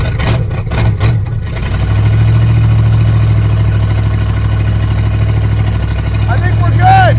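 A 1972 Plymouth Road Runner V8 cranks and fires, then settles into a loud, steady low rumble at idle, with brief sputters at the start and a voice speaking near the end.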